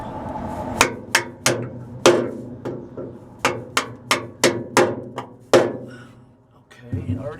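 Longer carriage bolts are hammered into a freshly painted rear bed bracket: a dozen loud, sharp metallic strikes land close by at an uneven pace, with brief pauses between groups of blows.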